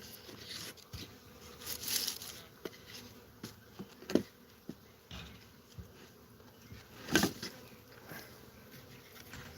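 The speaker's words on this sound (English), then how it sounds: "Now these bees are coming in this entrance" Honeybees buzz around a hive entrance outdoors, a faint steady hum broken by a few brief louder passes of single bees close by.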